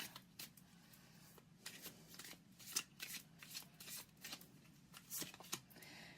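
Tarot cards are shuffled and drawn by hand: soft riffling and flicking bursts with brief pauses, repeated through the stretch, quiet and close, with no talking.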